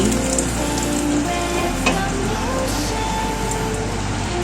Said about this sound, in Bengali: এক পিঠ ভাজা হওয়ার জন্য ঢেকে দিচ্ছি